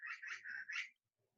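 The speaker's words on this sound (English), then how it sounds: "you hear the bird?" A bird calls in a few bright, closely spaced chirps or whistled notes, fairly clear and near, with a faint low murmur after.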